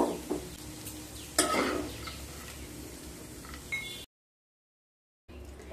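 Raisins and other ingredients frying in ghee in a pan for Pakistani makhandi halwa, with quiet sizzling and a few clinks of a spoon against the pan before a brief gap.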